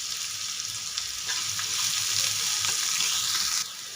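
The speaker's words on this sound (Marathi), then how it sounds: "कांद्याचा कच्चेपणा जाईपर्यंत कांदा आपल्याला परतून घ्यायचा आहे" Finely chopped onion sautés in a pan for a stuffed bitter gourd curry, giving a steady, fairly loud sizzle with faint stirring scrapes throughout, and no voices.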